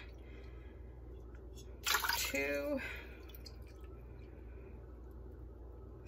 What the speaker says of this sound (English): I'm going to be putting 8 cups of water in here